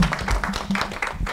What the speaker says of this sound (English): let's give Dave another round of applause